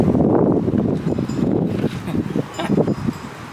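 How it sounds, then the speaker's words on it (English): Wind blowing outdoors at a repair shop, a steady loud rush and buffeting that rises and falls in gusts, with no one talking. "It's a little windy out here today."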